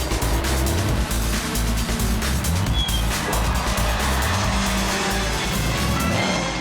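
Classic race cars at speed on the Charade circuit during the Tour Auto, with continuous loud engine roar and overlapping passes close by, dense and unbroken throughout.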